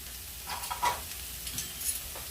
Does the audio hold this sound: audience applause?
no